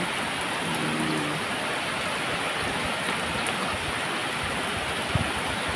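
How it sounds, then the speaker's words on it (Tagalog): Steady rain falls through a foggy morning outside a house, a dense, even hiss with no break or talk across the whole stretch. "naulan na umaga mga kapards"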